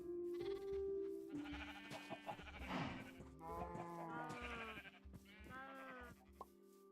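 Several sheep in Minecraft bleat in overlapping, wavering calls, some close and loud, others softer, with a faint low hum underneath and no talking.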